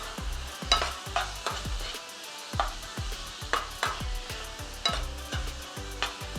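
Diced tomatoes sizzle in a pan for saag paneer while a spoon stirs them, a soft steady frying hiss broken by repeated scraping strokes, close up with no talking.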